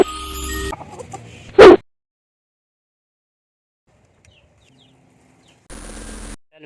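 Crossbreed and pure Rhode Island Red chicks give a short, loud burst of clucking close by, set between brief stretches of background noise and long silent gaps.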